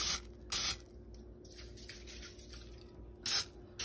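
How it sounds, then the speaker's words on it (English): Extra virgin olive oil sprayed from a spray bottle onto skinless boneless chicken strips in an air fryer, in three short hissing bursts: two near the start and one near the end, with quiet handling sounds between. "I'll be flipping it over and spraying the other side."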